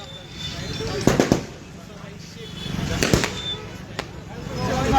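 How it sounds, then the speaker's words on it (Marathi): A few sharp firecracker bangs pop out of a noisy outdoor crowd at a political party celebration, two close together early on and another pair later, with people talking throughout. "फटाक्यांच्या आतिषबाजी करून साजरा केला जातोय"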